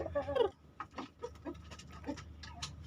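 Roosters, among them a Bangkok fighting cock, squawk in protest while young hens around six months old cluck in a pen, giving several close, sharp bursts of calls with short gaps between.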